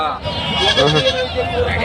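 Goats and kids bleat among a crowd of chattering voices at a livestock market, the animal calls short and close amid the busy talk.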